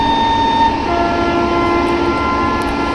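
A train horn on the Saurashtra Mail in RailWorks Train Simulator: one loud, sustained, multi-tone blast holds steady for the full three seconds over a constant engine rumble.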